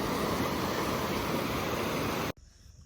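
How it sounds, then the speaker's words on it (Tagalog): Big ocean waves on the Central Coast, a loud continuous roar of surf with wind rumble that cuts off abruptly near the end, leaving a quieter wash. "Pero ang lalaki ng along, grabe."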